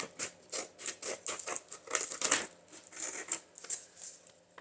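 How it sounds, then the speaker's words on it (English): Scissors snip through scrap junk material for a small handmade junk journal cover, giving a quiet run of quick, close crisp cuts and rustles in an irregular rhythm. "And so we'll cut that off."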